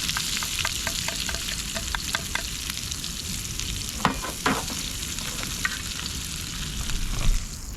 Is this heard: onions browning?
yes